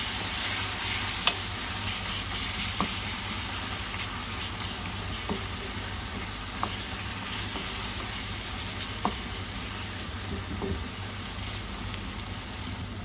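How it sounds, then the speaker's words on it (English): Red chili, coriander and turmeric powders are stirred into a paste in a hot frying pan, sizzling steadily throughout while a spoon scrapes and taps the pan every second or two. "Mix well until all spices become a good paste."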